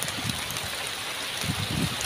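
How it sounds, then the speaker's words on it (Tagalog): Heavy rain pours steadily over a farm field, a dense, continuous hiss of water that stays loud and close for the whole stretch, with no clear voices above it. "Malakas talaga ng ulan, basa na ako. Grabe naman tong ulan na to"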